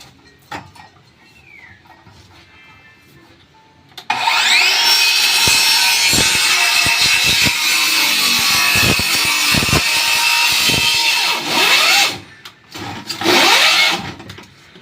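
A power tool bites into construction material with a loud sustained grinding whine lasting about eight seconds, broken by small knocks, then cutting out and returning in a shorter burst.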